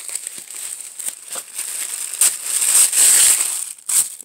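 Wrapping around a small accessory bundle from a Luxury Divas box is opened by hand, producing close, bright crinkling and rustling with sharper crackles toward the end.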